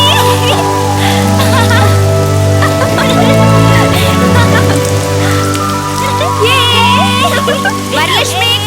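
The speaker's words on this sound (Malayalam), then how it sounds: "മഴ കൂടി വരുന്നുണ്ട്" Heavy rain in a Malayalam-dubbed film scene with Jr NTR and Hansika, a loud, constant downpour under background music and voices, with occasional bird calls.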